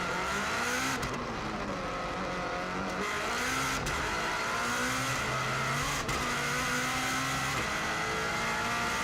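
A 2016 Subaru WRX STI races flat out on the Isle of Man TT course, its engine roaring loud and continuous as the pitch rises and falls through corners, with no one talking.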